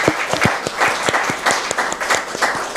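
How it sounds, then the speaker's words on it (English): Lively applause from a workshop audience for the panelists, many close hand claps in a quick irregular patter, loud and steady throughout with no talking. "a round of applause for our esteemed panelists"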